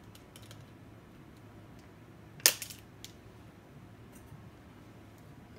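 Pliers snip a wire nub on a Lepanthes orchid mount, one sharp crisp click near the middle of an otherwise quiet moment, followed by a faint small tick.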